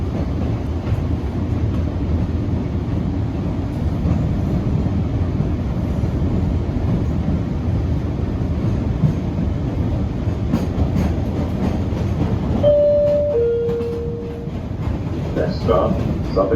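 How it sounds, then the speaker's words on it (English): An MBTA Blue Line subway train in Boston rumbles along loudly and steadily, with a continuous clatter over the rail joints. A brief high tone sounds near the end. "Tell you nostalgia buffs who like the sound of rail joints, you'll love this line."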